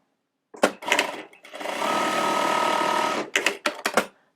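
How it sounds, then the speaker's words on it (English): Juki sewing machine running in a steady motorized whir for about a second and a half, framed by short clicks and the snap of the automatic thread cutter trimming the thread, close and clear with no talk. "best feature of all is the automatic thread cutter"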